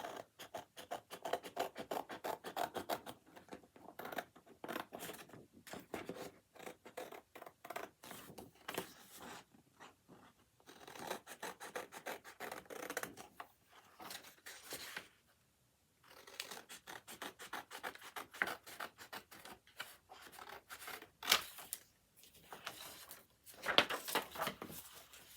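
Scissors snip through paper while a part is cut out for a DIY prayer journal, giving quiet, close, uneven cuts and rustling in repeated bursts with short pauses between them.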